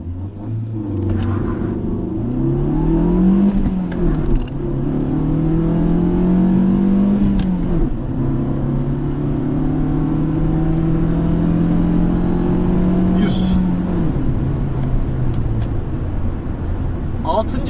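A Fiat Egea Cross 1.4 pulls away from a standstill, its engine note rising steadily through the gears as a loud, continuous in-cabin rumble with a brief gear change midway, while people talk over it.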